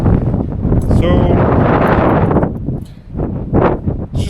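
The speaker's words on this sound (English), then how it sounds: "It's windy." Strong wind buffets the microphone in loud rushing gusts, with a voice speaking through the noise.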